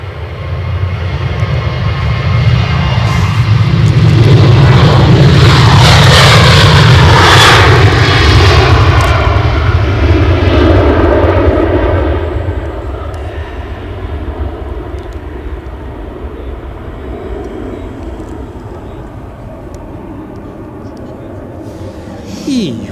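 An Emirates Airbus A350-900 jet airliner at Edinburgh airport roars loudly as its engines swell to a peak, then the noise slowly fades into a steady, more distant rumble, with voices talking over it.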